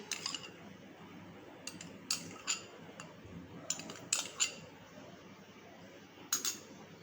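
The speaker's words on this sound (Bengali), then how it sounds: "টক দইটাকে ভালো করে আমি ফেটিয়ে নেব।" Sour yogurt is beaten with a spoon inside a metal tiffin box, giving sparse, irregular metallic clinks and taps over a quiet kitchen background.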